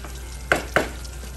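Capsicum frying with chicken curry over a lowered flame, a low steady sizzle with two brief stirring scrapes.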